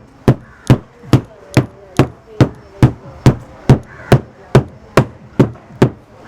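Papadam dough being pounded hard by hand, sounding as a steady run of about fifteen loud, evenly spaced thuds close by with no talk between the blows.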